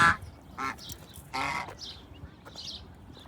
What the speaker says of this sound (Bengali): এখানে আবার আরেক জাতের হাঁস আছে, মানে এক এক এরিয়াতে এক এক জাতের হাঁস।